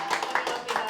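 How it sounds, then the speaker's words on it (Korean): An audience applauds film director Wang Min-cheol at a meet-the-director event for his movie Sanctuary, giving a brief burst of steady clapping with some voices mixed in. "우리 감독님한테 일단 박수 한번"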